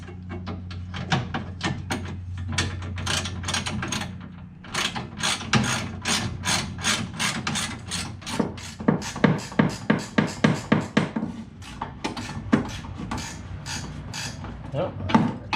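A ratchet wrench tightens a bolt on the front bumper of a C2 Corvette, with rapid clicking strokes close by and brief pauses between bursts.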